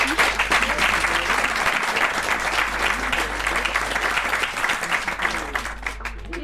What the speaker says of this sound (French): Vous pouvez vous applaudir parce que c'est pas facile.